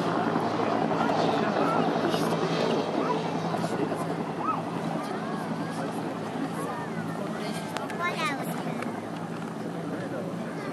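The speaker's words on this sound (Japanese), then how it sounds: "グラウンド右上空からヘリコプターが進入してきました。" A UH-1J multipurpose military helicopter's steady rotor drone fills the background while an announcer talks over it, at a defense academy festival training display.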